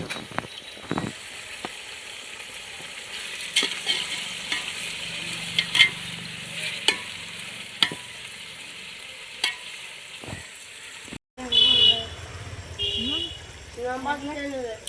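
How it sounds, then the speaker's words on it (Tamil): Onions and tomatoes sauté in oil for Vellore-style chicken dum biryani with seeraga samba rice, giving a steady close sizzle with scraping stirs, while a voice talks over part of it. "வெங்காயம் தக்காளி நல்லா வதங்கிச்சு"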